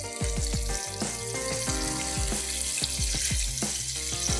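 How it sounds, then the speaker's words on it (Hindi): Fish deep frying in oil, a steady crackling sizzle with bubbling pops throughout, close and continuous with no talking. "और साथ ही जो फ़िश है उसको भी हम कर रहे हैं डीप फ्राई।"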